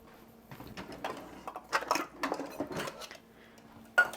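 Measuring cups are pulled out in a kitchen with a series of close metallic clatters and clinks, ending in a sharper knock, and no one speaks.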